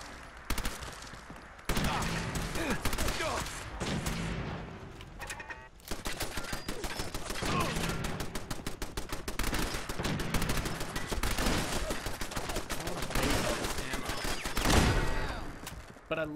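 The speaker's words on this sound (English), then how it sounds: "But I love this Tommy gun, it's so fun." Tommy gun fire in Fallout 4, loud rapid automatic bursts repeating across the clip with brief pauses, dense and close, mixed with game effects.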